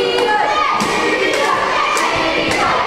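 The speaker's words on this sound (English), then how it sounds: "And the crowd shouting for TJ, Tornado Jones." A wrestling crowd chants and shouts for Tornado Jones, a dense, continuous roar of voices with rhythmic surges and thumps, loud and close.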